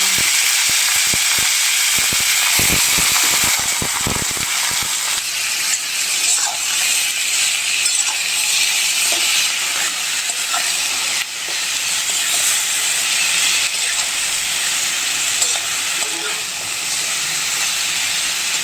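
Mushrooms and potatoes frying in a pan, a loud continuous sizzle and hiss with a few sharp crackles and spatters at the start, steady throughout with no talking.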